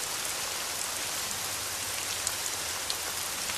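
Steady rain falls continuously, a dense, even hiss of drops on surfaces with no break and no voices, fairly close and uniform throughout.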